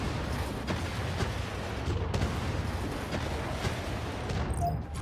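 Area attack in the Mecharashi video game unleashes a continuous barrage of gunfire and explosive booms, dense and loud throughout with scattered sharper bursts.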